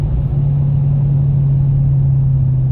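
A car rolls along a grooved road, its engine giving a steady loud low hum with a strong droning tone and road rumble throughout, no clear shift audible, no voices.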